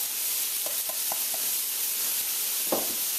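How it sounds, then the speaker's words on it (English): Chicken fried rice sizzling steadily in a pan, a constant close frying hiss with a few soft taps and scrapes scattered through, and no one talking. "this is when I'm going to grate in that fresh ginger as well"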